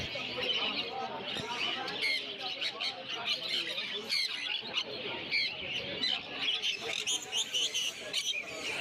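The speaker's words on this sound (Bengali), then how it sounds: "এখানে অনেক জাতের পাখি আছে, আমি সবগুলোর নাম জানি না।" Many kinds of caged birds at the Mirpur 1 bird market chirp, tweet and squawk continuously in a dense, overlapping chorus, steady and fairly close throughout, with market bustle mixed underneath.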